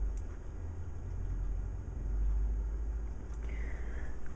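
Low, steady engine rumble from a truck idling outside, muffled and faint through walls, continuous throughout with a brief higher whine near the end.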